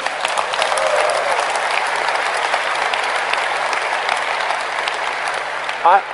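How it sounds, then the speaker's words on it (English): A live audience at a Nokia Lumia 800 presentation claps steadily and loudly for about six seconds, a dense sustained wash of applause with no talk over it. "You got to give me some applause on this."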